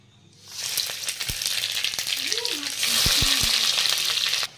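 Green chili, cumin and bay leaf dropped into hot oil, bursting into a loud steady sizzle with a few sharp pops and crackles, under a brief voice.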